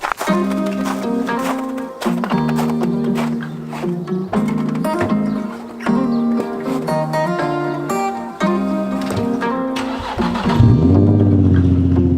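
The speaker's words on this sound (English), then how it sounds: "let's go ahead and get a cold start on this thing, and hopefully it starts" A Nissan Xterra engine cold-starts after sitting outside for months over winter. The cranking catches into a loud, rough running engine with uneven revving that holds steady to the end.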